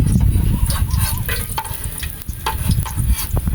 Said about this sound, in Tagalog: Kapainitin natin siya ng konti and then pwede na natin igisa ang luya. Ang bawang.